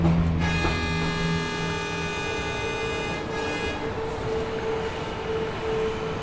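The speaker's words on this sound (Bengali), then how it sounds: "ট্রেন একটা স্টেশনে এসে দাঁড়িয়েছে" A train slows into a station, a steady rumble of carriages beneath a sustained tonal horn or whistle that sounds for several seconds before easing off, moderately loud and close.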